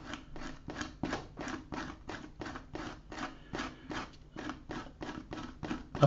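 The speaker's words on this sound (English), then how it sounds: "take off some of this masking fluid. And I've got my trusty rubber here" A rubber eraser scrubs dried masking fluid off watercolour paper in quick, even back-and-forth strokes, a soft rhythmic rasping that repeats about three times a second, close and quiet.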